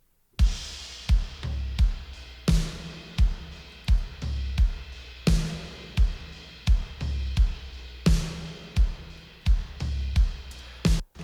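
Full drum kit mix with parallel compression, punchy kick and snare hits with crashing cymbals in a steady rock groove, each hit sharp and dense with compressed sustain, playing alone for about eleven seconds.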